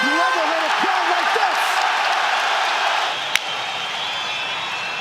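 Arena crowd roaring during the closing seconds of round three of a UFC bout, Islam Makhachev versus Alexander Volkanovski, a dense sustained wall of cheering with a commentator talking over it and a sharp impact near the end.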